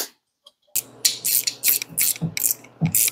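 A reassembled Hoover bench grinder is turned over by hand, giving a quick series of close mechanical ratcheting clicks and whirs after a short silence.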